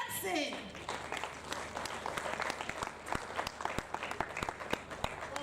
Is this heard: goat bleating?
no